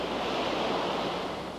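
Ocean waves wash in a steady, dense broadband roar with no break, loud and close, a continuous surf rush with a wind-like hiss.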